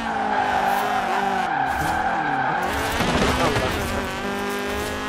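In Forza Horizon 4, a 2007 Honda Civic Type-R's tires screech and skid over a loud, roaring engine that shifts in pitch throughout.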